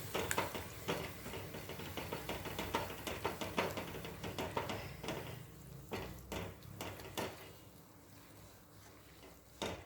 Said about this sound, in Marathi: हळूहळू हा रवा यामध्ये मिक्स करत जायचा आहे